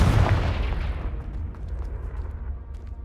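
A Confringo fire spell goes off in Hogwarts Legacy, a loud booming burst right at the start that rolls into a long, fading rumble with no other sound over it.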